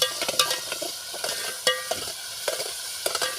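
Masala fries in oil for a spicy brinjal and potato bhaji cooked on a wood-fired stove, with a steady sizzle and frequent sharp clicks of a spoon stirring against the pan.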